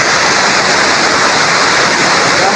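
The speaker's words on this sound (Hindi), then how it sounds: "बहुत जोर का बहाव आ रहा है पानी का" Floodwater surges hard over a village anicut (weir) after a night of heavy rain, a loud, steady broadband roar of rushing water filling the whole clip without a break.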